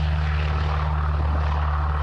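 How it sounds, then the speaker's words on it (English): Single-engine propeller airplane drones steadily and loudly, a constant engine and propeller hum with a strong low tone throughout. "The single-engine plane has a unique design and comes with a rich history."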